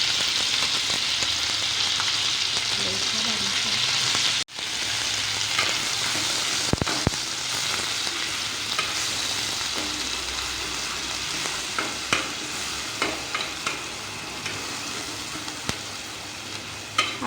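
A ground masala paste sizzles and fries in hot oil for a Marathi drumstick curry, making a steady, loud crackle. A utensil stirs it now and then, adding soft scrapes and clinks, and no one speaks.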